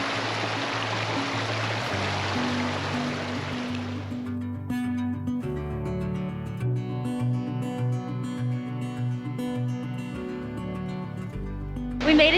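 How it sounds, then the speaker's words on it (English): A waterfall and stream on a hike near Moab rush in a loud broadband wash for the first few seconds, then fall away as someone speaks over the quieter scene. "We made it to the waterfall."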